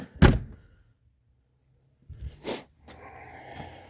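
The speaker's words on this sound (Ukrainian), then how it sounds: "І тоді дивіться, дверки закриваються." A car door, on a VAZ-2101 or Peugeot 306 for sale, shuts with one sharp thunk at the start, followed after a pause by softer handling knocks and rattles nearby.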